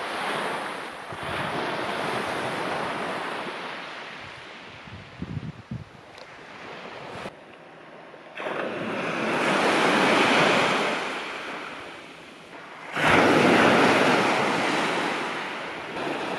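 Waves wash and break on a beach on the west coast of Vancouver Island, swelling and fading in long surges with gusty wind buffeting the microphone and no voices.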